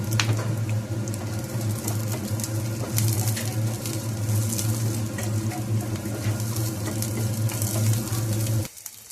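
Onion, coriander seeds, garlic and ginger roasting in a pan for Vada Rassa masala, giving a steady close crackle and patter with faint clinks for several seconds before cutting off abruptly.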